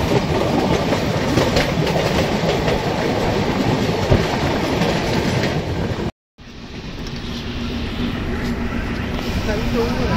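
Inside the Saraighat Express pulling out of Bardhaman Junction, loud steady rolling rumble and clatter fill the carriage, broken by a brief dropout, then resume more smoothly, with voices talking throughout.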